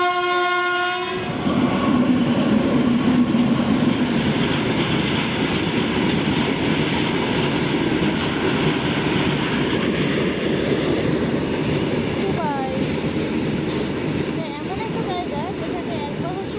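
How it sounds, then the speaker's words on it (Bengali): Two trains pass by a lowered level-crossing gate near a flyover, a loud continuous rumble of wheels on rails with a horn blast at the start and faint squeals later, steady and close throughout. "দুটো ট্রেন এদিক থেকে।"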